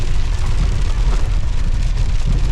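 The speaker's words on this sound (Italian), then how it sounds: "Ho cominciato anche a grandinare" Hail falling in stormy weather at nearly 5000 metres in Ecuador, a dense, steady loud patter with no voices.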